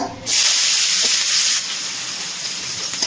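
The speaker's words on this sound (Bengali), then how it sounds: "পেঁয়াজটা একটু হালকা তেলে নাড়াচাড়া করে ভেজে নেব।" Loud, steady sizzling of onion hitting hot oil, a sudden burst of crackling hiss that settles slightly lower but keeps going.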